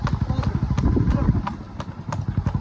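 A ridden horse's hooves clip-clop at a brisk gait on a village road in India, the rhythmic hoofbeats loud and close, with faint background noise.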